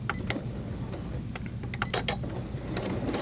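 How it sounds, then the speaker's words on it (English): A Janome 12000 sewing machine starting to stitch for free motion quilting, a close whirring mechanical hum with rapid clattering needle action and small clicks, steady and alone. "So we're going to lower the presser foot and hit start."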